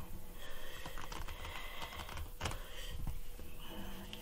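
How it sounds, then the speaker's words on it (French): Tarot cards being shuffled by hand, a close, busy patter of light card riffles and taps with some louder slaps, continuous and fairly loud throughout. "On bat les cartes jusqu'à ce que des cartes tombent pour donner l'atmosphère du tirage"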